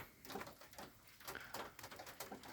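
Pigeons at a countryside dacha coo softly in low, repeated rolling calls, faint and a little distant, with no voices.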